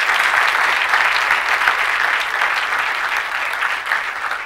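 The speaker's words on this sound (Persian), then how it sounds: "ما شما هم تشویقش میکنیم" An audience in a lecture hall on youth self-knowledge and psychology applauds to welcome a speaker onto the stage, with dense, continuous clapping from many hands that slowly tapers off.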